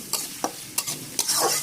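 Onion and green chili frying in hot oil in a pan for chotpoti, a soft sizzle broken by several sharp spatula scrapes and stirs, close and alone.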